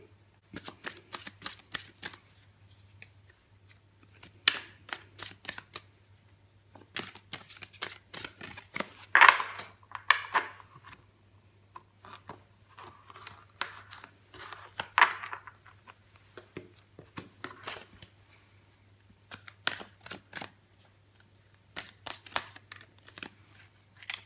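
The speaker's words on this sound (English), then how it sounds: "I'll give the cards a shuffle" Tarot cards are shuffled by hand in repeated short crisp riffling bursts with pauses between, close and fairly quiet against a low steady hum.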